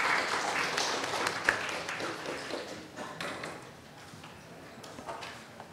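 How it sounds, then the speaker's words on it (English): An audience at a Constitution Day celebration gives a round of applause that is strongest at the start and then gradually thins out to scattered claps. "A huge round of applause for the next panel."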